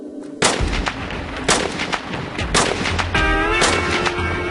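Eight rounds of gunfire shot straight up into the air, loud sharp reports arriving in a fast irregular string of close, echoing blasts with ringing tails, no talk over them.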